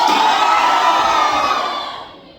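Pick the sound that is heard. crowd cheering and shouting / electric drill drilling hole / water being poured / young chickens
crowd cheering and shouting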